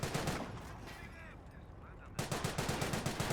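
Sniper fire and automatic gunfire in a Company of Heroes 1 match, a dense barrage of loud shots in quick bursts, dipping briefly before a fresh run of sharp rhythmic reports.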